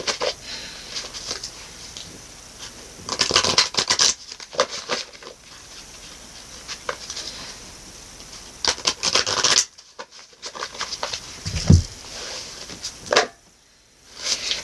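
A large 70-card oracle deck being shuffled in split halves, with bursts of papery riffling and card scratching that come and go over quiet gaps, close and fairly clear.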